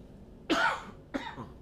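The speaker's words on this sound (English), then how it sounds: "I don't know what the coughing is all about" Two short, rough coughs, close by, a moment apart, with no talking around them.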